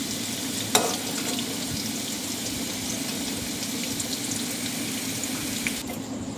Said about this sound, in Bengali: আমাদের আলু প্রায় ফ্রাইড এই দেখুন আলুগুলো গোল্ডেন কালারে হয়ে গেছে